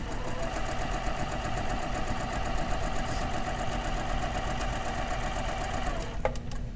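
Sewing machine stitching fabric in a steady continuous run, its motor hum and rapid needle clatter close and loud, stopping abruptly near the end.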